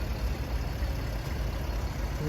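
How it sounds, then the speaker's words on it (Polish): Mercedes-Benz ML 320 CDI from 2006, 3.0-litre V6 diesel, idles with a steady low rumble, close and even for a couple of seconds. "Mamy tutaj silnik 3-litrowego diesla 225 y, koni, jest to V6 y, bardzo fajny silnik, trwały"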